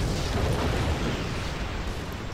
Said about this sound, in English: Let me blow everything up here that we need to, and then we'll worry about the container.